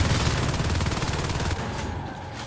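Rapid, loud shotgun blasts in Natural Selection 2 fire in a dense volley over continuous combat noise, then stop abruptly partway through, leaving a quieter rumbling tail.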